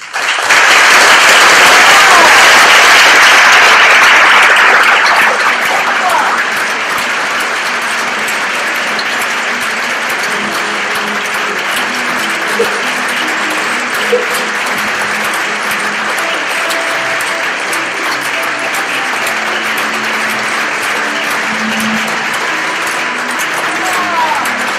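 A large audience at Karen Kain's Dance Hall of Fame induction breaks into loud, sustained applause that surges at first, then settles into steady, dense clapping for over twenty seconds.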